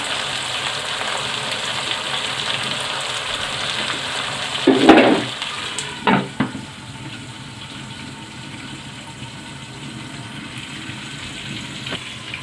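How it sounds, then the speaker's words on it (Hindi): Tomatoes fry in a pan for a restaurant-style keema aloo, with a soft continuous sizzle and a few louder clanks of a utensil partway through. "थोड़ा सा फ्राई करेंगे यहाँ पे टमाटरों को भी थोड़े से नरम हो जाएं।"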